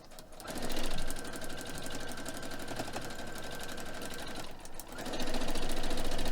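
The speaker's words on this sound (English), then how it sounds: "So now let's sew this." A sewing machine stitches a foundation paper piecing seam on a quilt block, a close, rapid mechanical chatter that runs steadily, pauses briefly, then starts again.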